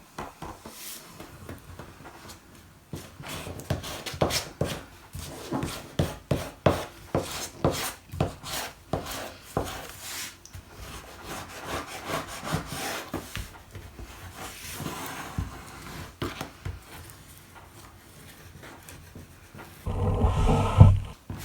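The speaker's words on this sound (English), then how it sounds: "try and run my bone folder along there as well" Dry rubbing and scraping strokes sound close up, each a short rasp in an uneven series, with a louder thud near the end.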